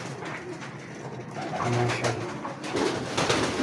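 A hefty breeder pigeon cooing in a loft setup, low soft coos rising in the second half over a noisy background, with a brief spoken word.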